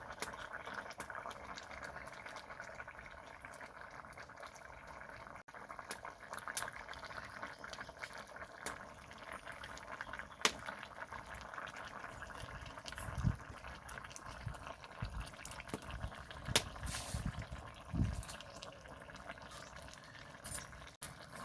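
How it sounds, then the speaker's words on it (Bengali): Fish curry gravy with rohu-type carp simmering in a pot, a low steady bubbling with occasional louder pops and faint clinks throughout. "ঝোলটা ফুটে উঠেছে"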